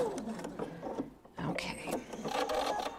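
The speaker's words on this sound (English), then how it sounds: "make sure I tack this down well along the last side so it doesn't come off. Do a little back stitch." Sewing machine running a short back stitch while tacking down a thread catcher, quick mechanical whirring and clicking bursts up close, fairly quiet.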